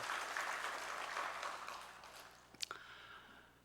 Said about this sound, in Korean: 우리 찬양 받으신 주님께 감사의 박수.